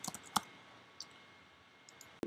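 A computer mouse clicks a few times at a desk, sharp separate taps spread across a quiet room background, with one louder click at the end.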